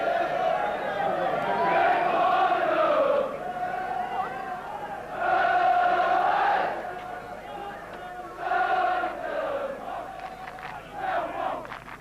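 Millwall football supporters on the terraces in 1977 roar and chant together in swelling waves of crowd voices, rising and falling in loud sustained bursts.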